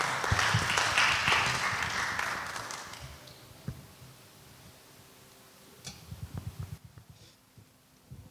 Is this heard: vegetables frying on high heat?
no